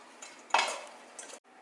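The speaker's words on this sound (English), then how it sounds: "if you're getting the chorizo that is smoked, you can just mix that in right now" A utensil scraping and stirring smoked chorizo in a pan, one brief clatter and scrape followed by a softer scrape, close, with a faint background hiss.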